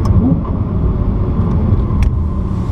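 Lexus LFA on a track ride, heard from inside the car as a steady loud engine drone and road rumble, with no talk over it.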